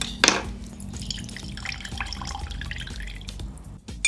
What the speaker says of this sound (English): And then we just need to squeeze some lemon juice.